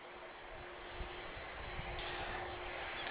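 Boeing 777 GE90 jet engines at Lisbon Airport give a steady, faint, distant roar with a constant whine, continuous and even throughout.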